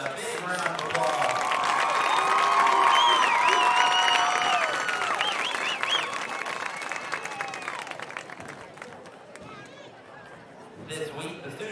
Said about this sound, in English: Please give all of our representatives a big round of applause